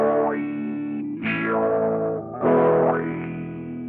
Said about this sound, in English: Drive lets you overdrive the filters to get a pleasing warm,